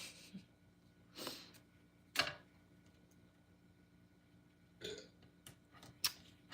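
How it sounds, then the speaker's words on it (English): Several quiet, breathy burps from a man, spaced apart over a hushed room with a couple of faint clicks in between. "Husband's burping over here. You probably heard it."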